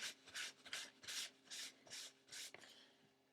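Paint being rubbed off a mixed-media collage journal page, heard as seven even, scratchy strokes in a steady back-and-forth rhythm, close and fairly quiet, with no talking.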